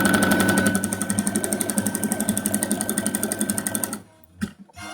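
A sewing machine stitches at speed with a rapid, even mechanical rattle for about four seconds, then cuts off, leaving a few faint clicks and knocks.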